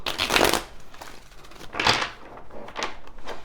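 Tarot cards being shuffled by hand in three close, papery riffling bursts separated by short pauses.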